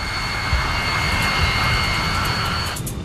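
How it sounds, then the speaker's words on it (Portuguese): Boeing 747 jet engines spool up for a takeoff run on a windy runway, a loud, steady broadband roar with a high whine that stays constant before cutting off sharply near the end. "O 747 acelera para atingir a velocidade de decolagem de 290 km por hora"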